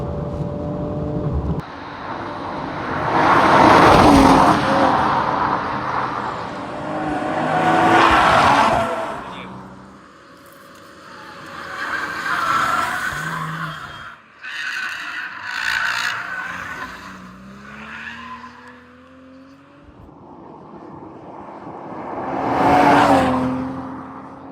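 A 2026 BMW M440i is driven hard on twisty roads, its engine swelling loudly and easing off through repeated surges, with tires squealing through corners and gear changes breaking the rising engine note.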